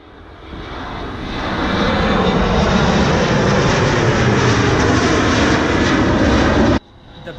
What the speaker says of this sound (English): The big one's about to come down the runway now.